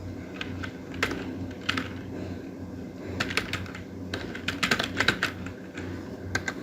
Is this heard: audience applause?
no